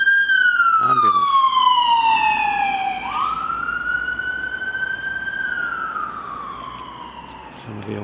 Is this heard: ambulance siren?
yes